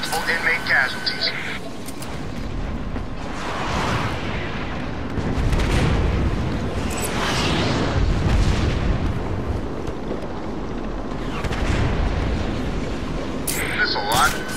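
Missile strikes in Batman Arkham City land as a series of deep, rumbling explosions with heavy low booms swelling and fading, while a radio voice talks over them.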